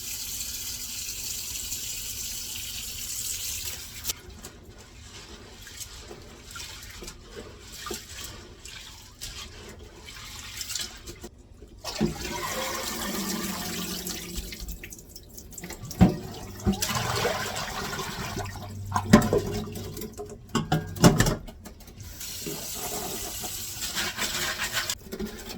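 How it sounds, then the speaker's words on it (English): Tap water runs into pots to cover dried beans being prepared for home canning, a steady rushing flow with splashes and a few louder surges and clinks toward the end, with no talking. "I'm gonna cover them with water."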